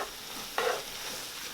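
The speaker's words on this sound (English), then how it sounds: "turn the heat off and stir in our scallions" Chopped scallions are stirred into Mongolian-style soy curls in a pan with the heat off: one brief scraping stir over a faint, fading sizzle, close and alone.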